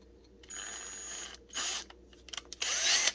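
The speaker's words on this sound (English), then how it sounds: "I hate drilling these because it likes to grab the bit." An electric drill whines in several short bursts as its bit bores a hole for a pocket clip in a Gerber knife handle, close and loud, with brief grabbing chatter between the runs.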